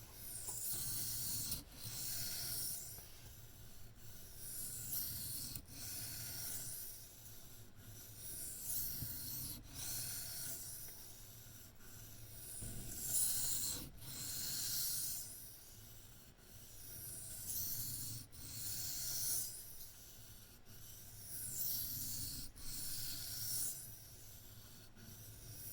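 A Case Sod Buster Jr knife in chrome vanadium steel is honed by hand on a fine Naniwa stone, giving steady, repeated soft rasping strokes in an even rhythm, close and quiet, with no talking.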